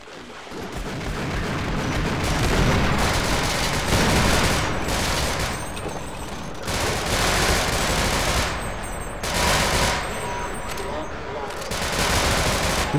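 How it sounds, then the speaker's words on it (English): Gunfire in the co-op shooter Half-Life: Sven Co-op: dense, continuous automatic and rapid fire that stays loud and close for the whole stretch, with only brief dips between volleys. "I can't hear you over these fucking gunshots"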